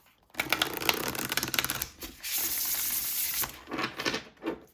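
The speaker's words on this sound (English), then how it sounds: "I'm just going to shuffle one more time." Rapid riffling of tarot cards in several quick bursts, with crisp papery flutters and short pauses between shuffles, close by and fairly soft.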